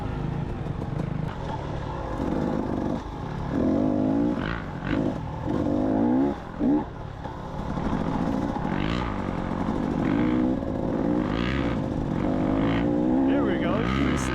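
A 2012 off-road dirt bike claws up a steep single-track trail, its engine revving and surging in bursts near at hand while a rider talks over it.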